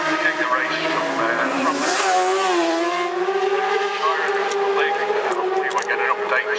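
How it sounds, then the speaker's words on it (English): A racing motorcycle passes at Ballaugh Bridge during the Isle of Man TT, its high engine note rising and falling as it goes by, under continuous commentary. "That's Ben Wiley through there on machine number 14"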